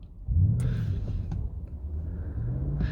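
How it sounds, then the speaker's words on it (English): An Audi RS6 engine cranks and catches after an immobiliser code sequence, settling into a low, steady idle rumble close by, with a few light clicks over it and no talk. "there you go, start the vehicle"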